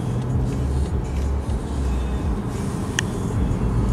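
A 2013 BMW 535i gathers speed in traffic, a steady low engine and road rumble with a brief sharp click near the end, no talking.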